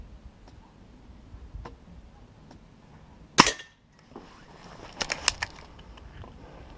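A Black OPS Soul Langley air rifle fired at a 20-metre target gives one sharp, close crack in a quiet setting, followed a couple of seconds later by a quick cluster of lighter clicks.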